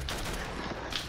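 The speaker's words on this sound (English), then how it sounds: "I hear bullets like flying by me." Gunfire in the Roblox shooter Arsenal, heard as a faint, dense patter of distant shots with two brighter cracks at the start and near the end, without talk.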